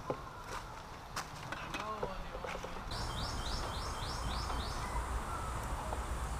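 Birds chirp and tweet in a seaside forest campsite in Cebu, quietly and steadily over soft ambient rustle, with repeated short chirp series partway through.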